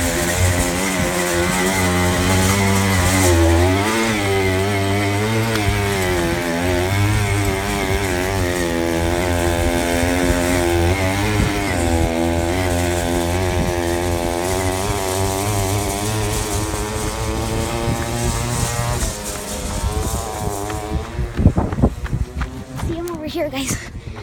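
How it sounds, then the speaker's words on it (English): Go-kart engines run loud and close with a buzzing, revving whine that rises and falls in pitch over a long stretch, then cuts to a rougher sputter near the end, with speech heard over it. "today we're with my neighbor doing go karts"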